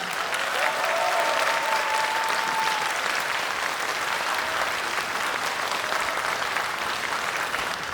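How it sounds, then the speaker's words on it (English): Applause from a school spring concert audience at an elementary school in Hanoi, a steady dense wash of many hands clapping throughout, loud and sustained without talk. "let's give them a nice round of applause"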